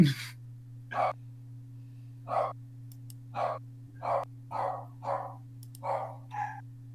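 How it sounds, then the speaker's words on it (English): Dogs bark off in the distance, about ten short separate yaps spaced roughly a second apart over a steady low electrical hum. "those are my dogs barking off in the distance"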